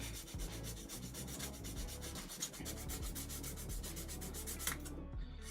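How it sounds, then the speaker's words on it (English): A fine sanding stick rubbed back and forth over a scale model, giving quiet, rapid, even scratching strokes that repeat steadily throughout. "I'm just going to rub fine over the top."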